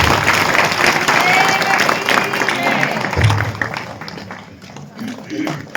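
Applause from a satsang audience honoring a legislator, a dense broadband patter of many hands that holds steady, then thins and fades toward the end.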